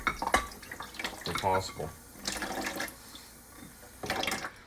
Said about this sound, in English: I'm just quickly rinsing this real quick here. In the basin, clean that gray water a little bit